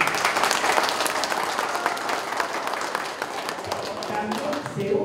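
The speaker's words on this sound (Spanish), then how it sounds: "Fuerte voto de aplauso." A church congregation claps to welcome new members, a strong, busy round of applause that stays loud throughout and thins slightly near the end, with some crowd voices beneath.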